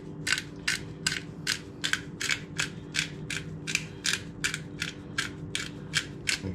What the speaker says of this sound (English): Now we're gonna go ahead and take our pepper. We're going to grind it.